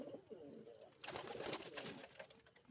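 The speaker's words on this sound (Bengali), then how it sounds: "একটা একটা করে পায়রাগুলো দেখিয়ে দিই" Several pigeons cooing in low, throaty bursts, growing busier and louder after the first second, with a steady room hum underneath.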